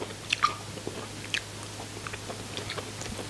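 Crispy fried sea fish with roe being bitten and chewed up close, a few sharp crunchy bites at first, then softer, quieter chewing with no talking.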